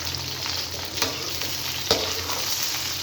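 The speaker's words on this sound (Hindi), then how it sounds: "सबसे पहले हम भिंडियाँ फ्राई करेंगे इसके अंदर।" Slit okra frying in hot cooking oil in a kadai, a dense steady hiss and crackle up close, with a couple of brief sharper clinks of a utensil.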